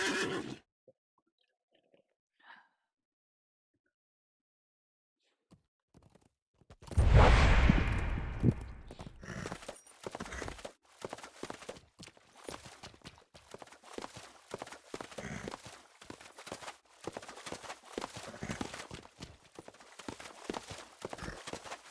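A war steed in the LOTRO video game lets out a loud, close whinny, then its hooves clip-clop in a steady rhythmic gallop that continues to the end.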